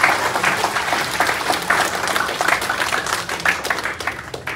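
An audience at a screenwriting workshop's closing session claps in sustained, dense applause that stays steady for several seconds.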